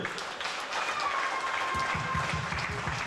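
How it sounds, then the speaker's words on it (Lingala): Church congregation applauding in praise during a worship service, a broad wash of clapping that settles into a rhythmic beat toward the end. "Acclamons pour le Seigneur."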